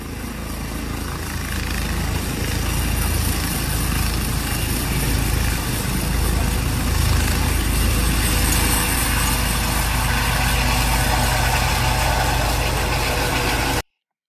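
A continuous, heavy helicopter engine roar with a whirring, beating drone, steady and loud throughout before cutting off abruptly at the end.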